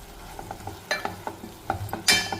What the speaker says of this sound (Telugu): మనం కడిగి పెట్టుకున్న బచ్చల కూర ఆకులు అయితే వేయాలి ఇవి కొంచెం మగ్గుతాయి అన్నమాట ఇందులో ఒకసారి కలుపుకొని